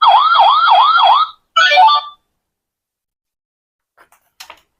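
Electronic police car siren from a children's sound book, a loud wailing tone rising and falling in quick cycles, then a short burst of another siren pattern before cutting off, followed by faint clicks of handling.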